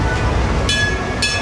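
Roller coaster train running at Alton Towers: steady loud rumbling roar of wheels on track with metallic squeal bursts, heard nearby without talk.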